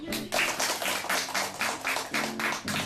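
A group of people clapping, a rapid run of hand claps forming an even, continuous applause, close and fairly loud for about three seconds.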